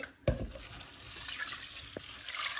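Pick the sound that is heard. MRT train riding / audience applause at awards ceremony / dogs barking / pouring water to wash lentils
pouring water to wash lentils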